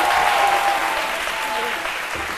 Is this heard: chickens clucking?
no